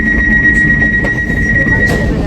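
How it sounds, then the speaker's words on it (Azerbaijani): A high-speed passenger train travels along the track in a steady, loud rumble with a faint sustained whine over it, heard from inside throughout. "Ucu qatara minmişik. Sürət qatarıdır."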